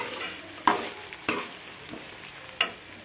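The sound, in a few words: onions frying and being stirred in pan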